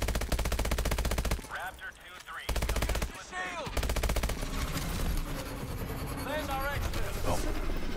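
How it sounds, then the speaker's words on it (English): Rapid automatic turret fire from Call of Duty: Advanced Warfare hammers on almost without pause through brief gaps, loud and dense, with someone talking over the shooting. "That turret's destroying me"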